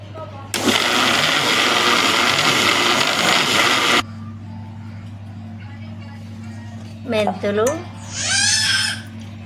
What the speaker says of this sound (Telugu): ఇప్పుడు మళ్ళీ మిక్సీ పట్టుకుందాం.